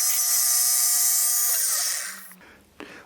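A tool and cutter grinder sharpening a cutter gives a high, loud, steady whine that winds down and fades, followed by a faint clunk at the end.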